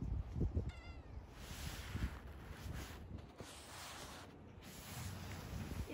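A cat meowing outdoors on a windy January day: a short, faint meow early on, over gusty wind rumbling on the microphone.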